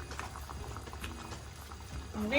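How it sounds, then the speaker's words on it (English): Pot of Indonesian prawn curry with the prawns just added, bubbling at a steady simmer, a soft continuous gurgle up close that swells slightly toward the end. "I'm going to allow this to simmer for about"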